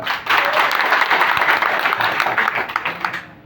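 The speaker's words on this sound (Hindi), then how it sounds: "उसके बाद थैंक यू सर के लिए एक बार जोरदार ताली।" Loud, dense applause from an audience at a gathering, a steady roar of many hands clapping together for about three seconds before tapering off quickly.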